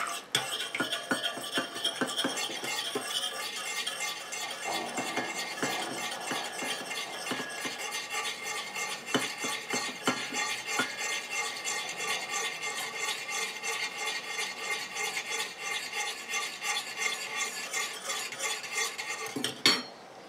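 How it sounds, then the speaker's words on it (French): A mango, coconut and shea foot butter emulsion is stirred steadily in a bowl, giving continuous close scraping and clinking of utensil against container with rapid irregular strokes and no talk. "Je continue à mélanger comme ça jusqu'à ce que mon émulsion ait épaissi et refroidi."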